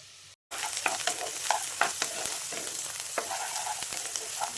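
Chopped onions fry in about three spoons of oil for a raw plantain curry, crackling and sizzling steadily while a spoon stirs and scrapes the pan in irregular knocks, after a brief silent gap at the start.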